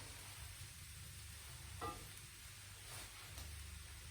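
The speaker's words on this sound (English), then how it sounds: "I know I'm stirring it quite frequently, but turning the pan is really nice too." Chickpeas, broccoli and spinach sizzling in a pan while being stirred, a quiet steady frying hiss with one brief utensil scrape, heard close up.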